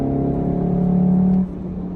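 2019 VW Golf R hatchback driven through corners, a steady engine hum and drone heard from inside the cabin, rising slightly and then dropping off.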